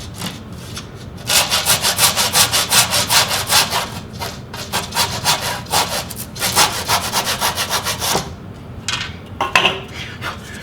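A hand saw cuts a wooden story stick to length, with rapid rhythmic rasping strokes close up in several bursts and brief pauses between them, ending with a few clattering knocks.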